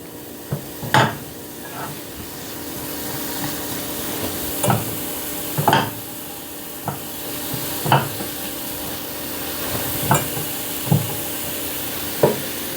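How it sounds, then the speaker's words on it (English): Mushrooms and onions sautéing together in a pan for an omelette, a faint steady sizzle punctuated by a dozen or so sharp spatula taps and scrapes at irregular intervals. "So I'm going to saute the mushrooms and the onions together"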